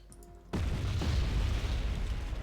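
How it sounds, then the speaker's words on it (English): Cluster bomb explosions in the video game Wargame Red Dragon, a sudden deep boom that swells into a dense rumbling roar of overlapping blasts, loud and sustained after a brief quieter lead-in. "Cluster bombs going in."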